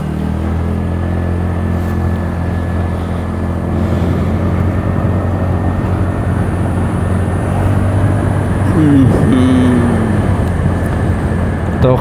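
A new-model motorcycle engine runs on a village road, a loud, steady droning rumble that swells slightly near the end with a brief shift in pitch. No voices are heard.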